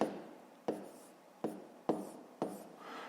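Pen writing a math equation by hand on paper, four or five short scratchy strokes, each starting with a sharp onset and trailing off, close and quiet with no talk.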